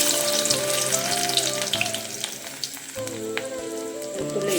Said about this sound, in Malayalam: എണ്ണ ചൂടായിട്ടുണ്ട്. നമുക്ക് ഇഞ്ചി ഇട്ട് കൊടുക്കാം.